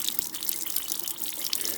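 Water streams steadily from a tap through a drinking water filter, a constant hiss-like rush with no pauses and no voices.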